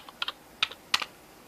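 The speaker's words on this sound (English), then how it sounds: "So you're gonna type in your password and your username." Keys typed on a keyboard while entering a username and password for a PS3 upload, a few sharp, close clicks in small clusters with brief pauses between them.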